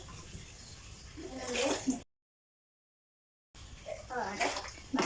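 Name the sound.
water being poured in a water challenge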